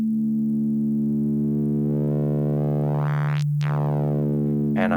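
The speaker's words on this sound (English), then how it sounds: "now I have my sine wave being modulated in this way" An FM-synthesized sine wave being modulated: a steady, buzzy electronic drone rich in harmonics, whose upper overtones sweep down and back up near the end in a sharp swoop.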